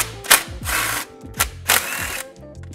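A power tool spins out two bolts on an intercooler bracket of a 2022-on Subaru WRX, giving two loud, close whirring bursts separated by short pauses and brief clicks, with no voices.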